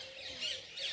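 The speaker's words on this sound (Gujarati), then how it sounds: "જો કબૂતર કેટલા ઉડું છે જો પેલા ઉપર કબૂતર કેટલા બેઠા" Birds squawk and chirp near a temple where many pigeons are flying and perched above, a couple of fairly close calls rising over quiet outdoor background.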